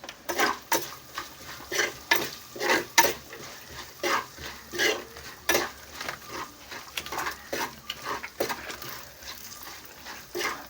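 Beef frying in a pan with turmeric and salt, Kerala style, with repeated scraping and stirring strokes of a spoon against the pan in a steady uneven rhythm, close and moderately loud over a faint sizzle.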